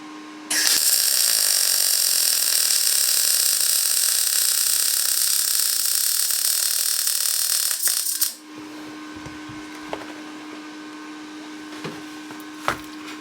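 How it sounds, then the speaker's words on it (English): Welding a seam on a homemade exhaust pipe for a Porsche 928, a loud steady crackling buzz that starts abruptly, runs about eight seconds and cuts off, leaving a faint hum and small clicks. "It's quite easy welding in the seam"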